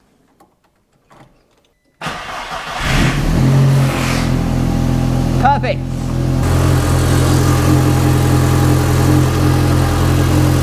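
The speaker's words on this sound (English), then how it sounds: "You turn the key and it fires straight up." A VW Mk1 Caddy with a 20V turbo engine conversion cranks and fires straight up after a quiet pause, then settles into a loud, steady idle with a brief blip; a short spoken word comes just before it catches.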